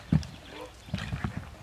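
Horse hooves striking the ground as a rider sets off during show-jumping training, a few soft, irregular thuds heard fairly close against a quiet background.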